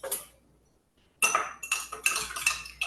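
A fork whisks a Dijon mustard and paprika mix in a bowl, a few clinks, a short pause, then a quick run of rapid metallic tapping strokes up close.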